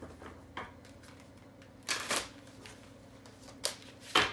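A tarot deck is shuffled by hand in a few quick bursts of riffling and card slaps, close and fairly quiet, spaced out over a few seconds, with no speech.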